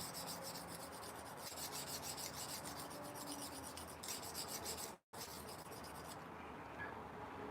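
A blade is sharpened and reprofiled on a bench stone, giving steady, close, continuous rasping strokes throughout, with one brief gap near the end.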